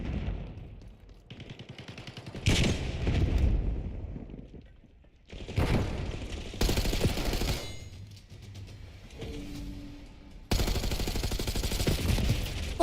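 Hardpoint match in a shooter game: repeated bursts of automatic gunfire with explosions and booms, loud and close, broken by short quieter gaps.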